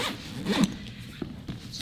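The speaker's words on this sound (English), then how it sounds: "So this one zips right back up." A zipper on a YETI Crossroads 22L backpack is pulled closed in one quick rasping run, close and fairly loud, followed by a few soft handling bumps.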